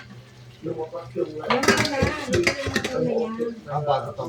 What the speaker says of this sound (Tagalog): Sasalin na natin ang minarinate na karne.